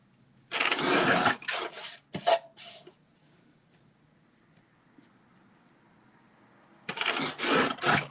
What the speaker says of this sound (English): So I'm just going to trim this down.